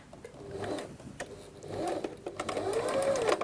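A sewing machine runs in bursts as it stitches a dress seam with backstitching, the motor whirring steadily and closely with brief pauses between runs, no talking.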